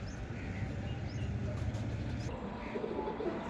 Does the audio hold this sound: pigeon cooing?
yes